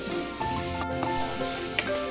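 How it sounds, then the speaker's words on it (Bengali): Spice masala for a chitol fish kalia sizzles and frys steadily in a pan, with a few brief scraping stirs breaking through the continuous close sizzle. "এবার আমি 3-4 মিনিট মশলাটা কষাবো।"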